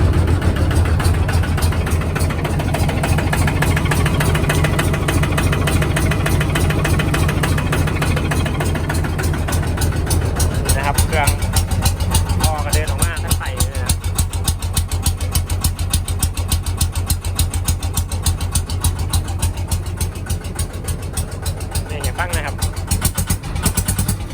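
A tuk-tuk's small engine idles steadily up close, a continuous throbbing putter with a fast regular pulse and some rattling, running for the whole stretch with faint voices underneath.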